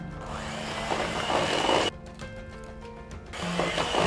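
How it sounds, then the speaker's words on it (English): An electric mixer beats butter, brown sugar and eggs for peanut butter stuffed cookies, a steady whirring drone whose pitch dips and shifts as the beaters work through the mixture, with a brief lighter stretch midway. "just get in there with your electric mixer and give it a really good beat"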